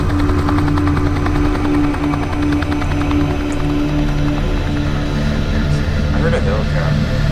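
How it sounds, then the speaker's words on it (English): In the horror video game Nightmare House 2, a helicopter drones continuously with a steady low rotor hum and a faint pulsing texture, mixed with other game ambience. "I heard a helicopter."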